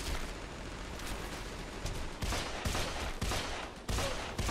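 Rapid bursts of gunfire from a first-person adventure shooter, dense volleys crackling loudly and continuously with brief pauses between strings of shots, no talking over it.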